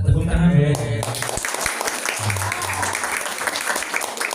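An audience at a Ramadan special of a literary performance show breaks into applause. The clapping is a dense patter that follows a brief voice and carries on with some low sounds mixed in.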